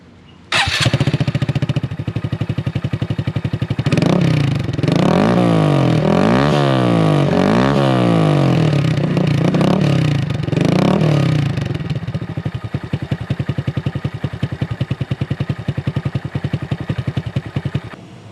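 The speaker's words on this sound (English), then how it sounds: "Now the aftermarket Amazon exhaust. This is with the baffle in." Honda Grom motorcycle fitted with an aftermarket exhaust from Amazon, baffle in, starting up and idling, then revving repeatedly in rising and falling sweeps before settling back to a loud, close, burbling idle.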